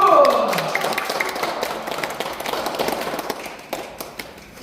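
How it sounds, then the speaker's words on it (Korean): A room full of people claps, a dense burst of applause that gradually thins into scattered claps. "박수 한번 치고 시작합니다"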